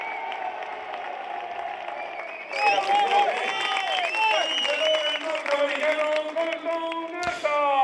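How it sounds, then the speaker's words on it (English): Applause and cheering break out for podium finishers at a Euroformula Open race at Jerez, Spain, rising suddenly to a loud, sustained crowd roar with clapping while a commentator speaks over it. "it's a standing ovation from Carlin as Colton Herter takes his place on the top of the rostrum in Jerez"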